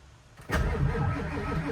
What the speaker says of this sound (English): now the truck won't start